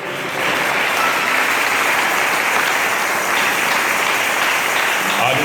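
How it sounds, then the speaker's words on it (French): A full-gospel church congregation in Libreville applauds God, a dense and steady wash of clapping that starts after a brief moment and holds loud and even to the end. "Nous allons donner une même acclamation à notre Dieu."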